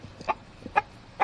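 Chicken squawking in short bursts at a backyard coop, three loud clucking calls spaced about half a second apart, close to the listener with no talk.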